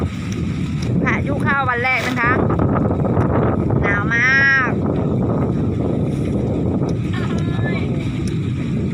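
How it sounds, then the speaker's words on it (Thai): Strong wind gusts during cold-season rain roar continuously and buffet the microphone, while people talk loudly over the din. "เนี่ยลมมาแล้ว"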